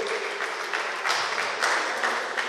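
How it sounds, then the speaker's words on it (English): Applause from an audience at a community police meeting on domestic violence, a steady dense clatter of many hands with small swells, fairly close and continuous throughout. "Give me a clap for that, all you."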